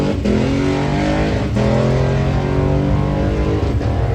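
Loud, close drag race car engine revving hard during testing, harmonic roar shifting as it climbs through gears, with brief dips between shifts.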